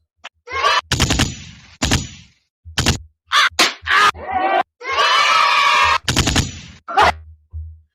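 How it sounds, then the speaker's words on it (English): Gunshot sound effects fired from a podcast sound machine, loud sharp bangs in irregular bursts, several rapid strings like automatic fire, broken by brief shouts and screams and short silent gaps. "I've got this podcast machine. I've been working on how I can do things like I can do the gunshot."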